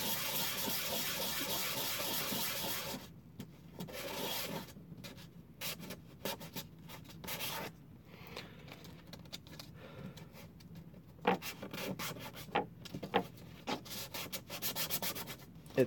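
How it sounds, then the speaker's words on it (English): Sandpaper rubbed by hand across the face of an old plastic bank card being shaped into a guitar pick, first as a continuous close scratchy rasp and then as shorter uneven strokes. "It's going to be hard for with your first face sand because the sandpaper is going to want to grip onto the card."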